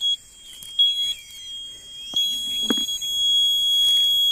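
An electromagnetic detector beeps twice near a large tree that was struck by lightning, giving two short, clear electronic tones over steady high-pitched background tones and faint ambient noise.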